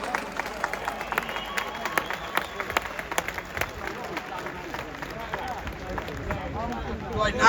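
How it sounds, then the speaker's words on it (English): Outdoor crowd at a patriotic rally in Parliament Square, London, applauding and cheering in a steady wash of clapping and voices, rising louder at the end. "Cheer for Sammy Woodhouse"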